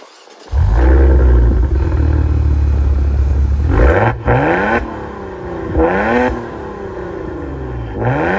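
A 2024 Maserati Levante Modena Ultima engine starts and idles loudly, then revs sharply three times in quick bursts, each rising and falling, close by.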